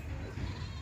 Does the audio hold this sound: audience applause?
no